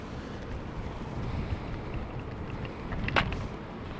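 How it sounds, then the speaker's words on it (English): Strong wind blows on a Bristol Channel shore, a continuous rough buffeting rush over the microphone with a brief louder gust near the end and no talking. "It's bloody windy, mate."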